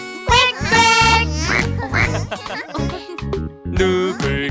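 A sung children's-song voice imitates a duck quacking in several bright, nasal quacks over music, with singing around them.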